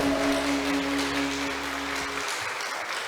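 Church congregation applauding together, a steady dense wash of clapping with a sustained organ or keyboard tone beneath that drops away near the end while the clapping carries on.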